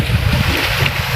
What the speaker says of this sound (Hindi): कि किस तरह से पानी चक्कर से टकराकर नीचे निकल जाता है